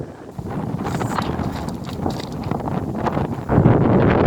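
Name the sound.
wind blowing into microphone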